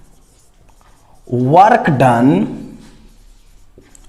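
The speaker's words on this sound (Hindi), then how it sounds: "तो आइए थोड़ा सा लिखते हैं" Writing strokes on a board during a physics lecture on the potential energy of a dipole in an external field, partly masked by a teacher's voice speaking briefly in the middle.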